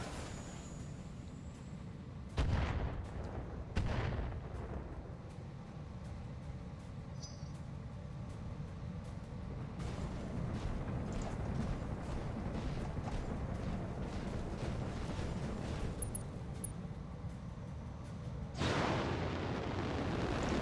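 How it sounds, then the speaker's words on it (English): A quad PPC turret fires in a BattleTech video game: quiet, distant crackling energy discharges and rumbling explosions come in sharp bursts that swell into a sustained roar, then stop abruptly before another burst begins. "Quad PPC turret"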